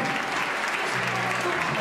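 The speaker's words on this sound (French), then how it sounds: "c'est des applaudissements, s'il vous plaît." An audience claps steadily throughout at a beauty pageant, Miss Saône-et-Loire 2014, with a dense, even wash of applause filling the hall and a voice faintly audible beneath it.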